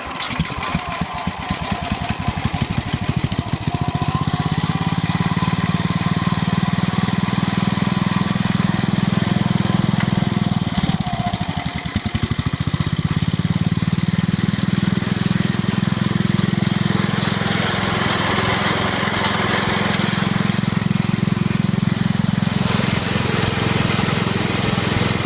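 A small engine on a freshly cleaned carburetor sputters to life and runs on choke with a loud, rough, uneven chugging, dipping briefly midway before resuming its steady labored drone.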